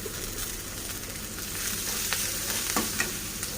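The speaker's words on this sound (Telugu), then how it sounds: "ఇవి వేగిన తర్వాత మనం క్యారెట్ తురుము పెట్టుకున్నాం కదండి, అది కూడా ఇందులో యాడ్ చేసేసుకోవాలి." Grated carrot fries with herbs in a pan, giving a steady, soft sizzle with a few light stirring scrapes and clicks, heard alone without talk.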